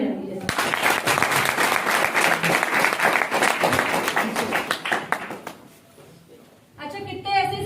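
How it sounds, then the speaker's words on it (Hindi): A business seminar crowd claps in a loud burst of rapid, overlapping hand claps that dies away after about five seconds, followed by a brief lull and then a voice speaking over the room. "एक बार ताली बजा दीजिए।"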